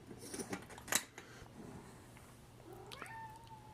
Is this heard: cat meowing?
yes